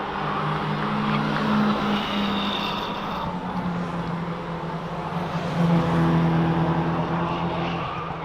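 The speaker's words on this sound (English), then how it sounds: "These cars are certainly a lot of fun to watch." Race cars roar around a speedway track at a kids' night event, a dense continuous engine drone with shifting pitch as cars pass, loud and sustained throughout.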